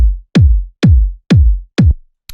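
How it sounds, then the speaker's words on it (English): Fat 909-style deep house kick drum, four punchy, booming hits at an even tempo with a quick pitch drop on each, played alone and dry, followed by a short click at the end. "you know, fat 909 style deep house kick like you would use."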